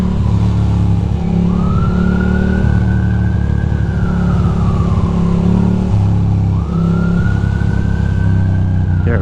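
An ambulance siren wails loudly through night traffic in the rain, with slow rising and falling sweeps over a heavy rumble of road and wind noise.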